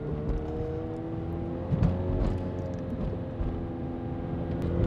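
Supercar engine idling along at low speed in first gear during a driving test, a steady low rumble heard from inside the cabin with a couple of slight swells in revs and no talk.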